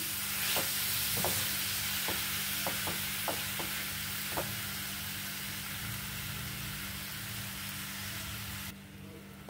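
About 300 grams of jaggery melts in a pan over a low gas flame for a hog plum pickle, giving a steady soft sizzle and hiss broken by scattered close spoon scrapes and clicks as it is stirred now and then.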